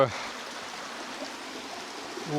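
A mountain torrent rushes in a continuous, even wash of white noise, a soft, close murmur with no distinct splashes.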